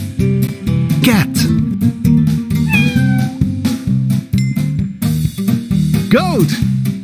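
Cat meows sound a few times in a children's animal puzzle game, one early and one louder near the end, over a looping cheerful tune.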